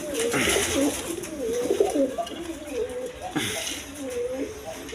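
Red checker pigeons at a pigeon farm, a male and female pair, cooing in low repeated throaty calls through the clip while someone talks over them nearby.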